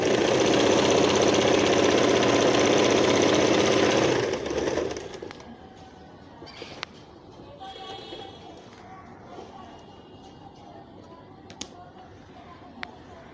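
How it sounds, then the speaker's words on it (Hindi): A sewing machine double-stitching a salwar hums loudly and steadily for about four seconds, then cuts off, leaving faint handling noises and a few sharp clicks. "अब इसी को हम डबल सिलाई कर देंगे।"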